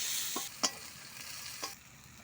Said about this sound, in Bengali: একটা গোটা পেঁয়াজ কাটা ছিল দিয়ে দিলাম।